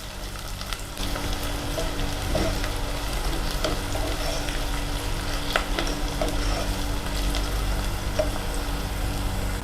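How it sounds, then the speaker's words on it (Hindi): Onion, garlic and ginger sizzle steadily in a hot pan for pepper chicken, with occasional clicks and scrapes of stirring, close and continuous without any voices. "प्याज, अदरक और लहसुन अच्छा फ्राई हो गया है"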